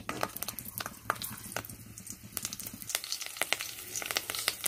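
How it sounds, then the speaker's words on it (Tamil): Mustard seeds and urad dal crackle and spit in hot coconut oil, a dense run of sharp close pops and sizzles throughout with no talking. "அதில் கடுகும் உளுத்தம் பருப்பும் போட்டுக்கலாம்"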